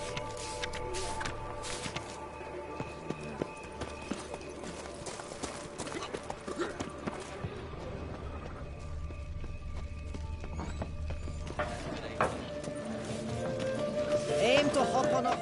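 Horse hooves clip-clopping in The Witcher 3: Blood and Wine, a rhythmic trot under game music and voices, with a whinny and a gradual swell in the final seconds.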